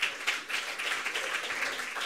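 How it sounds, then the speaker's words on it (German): An audience at a Bern museum night event applauds, a continuous patter of many hands clapping at moderate distance with no voices over it. "Ein Applaus für Fino Winter."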